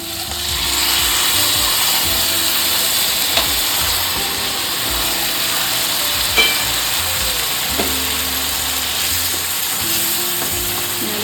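White sauce is poured into a hot pan for restaurant-style pasta and stirred in. A steady, loud sizzle holds throughout, broken by a few light scraping clicks of a utensil.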